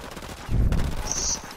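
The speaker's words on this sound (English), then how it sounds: "I shot a civilian" A gunshot in a video game: one muffled, fairly quiet report with a low thump, then a short fading tail.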